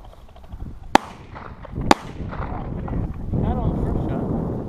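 Two sharp shotgun blasts about a second apart, fired at a flushing pheasant on a December hunt in Delaware, loud and close over wind noise on the microphone, followed by rustling and low talk.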